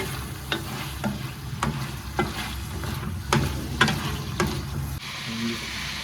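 Food fries and sizzles steadily in oil in a pan while a spoon scrapes and stirs it in regular clinks and scrapes, close by, with a soft voice now and then.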